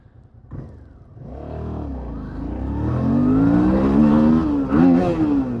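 A hard launch from a standstill: the engine note climbs steadily and grows loud and close, with a brief dip near the end before it rises again. No speech is heard.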